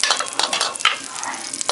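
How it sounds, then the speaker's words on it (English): Butter sizzles in hot corn oil in a pot, a close, crackling hiss with uneven bursts of spattering and stirring over under two seconds, with no talk. "I have some oil, some corn oil, and I'm gonna add some butter, 1 teaspoon butter."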